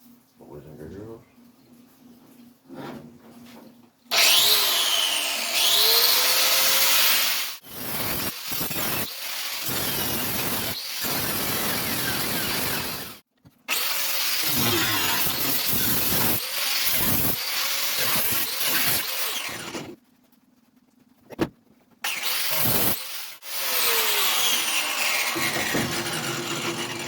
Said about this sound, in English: cut the hole for the sump on this fuel cell